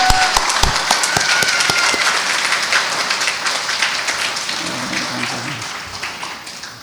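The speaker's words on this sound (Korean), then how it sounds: "큰 박수로 응원해 주시길 부탁드립니다" A church congregation at a Lutheran Sunday worship service gives a sustained round of applause, steady dense clapping that slowly fades over several seconds.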